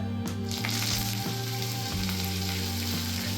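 Whole cumin seeds and curry leaves frying in hot oil, a strong steady sizzle with occasional stirring, heard alongside background music.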